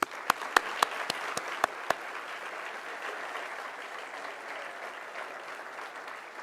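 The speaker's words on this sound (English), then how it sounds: "So if you could give them a round of applause." An audience at an event on the James Webb Space Telescope breaks into applause, a few sharp claps up front, then a steady, moderately distant wash of clapping that carries on alone.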